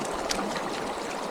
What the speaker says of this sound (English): So it was really nice to see the river flowing.